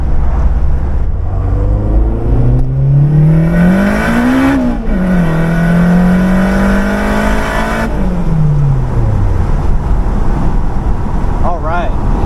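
A turbocharged Acura RSX accelerates hard through the gears, its engine rising in pitch, dropping briefly at a shift, then climbing again before easing off, loud and close from inside the car.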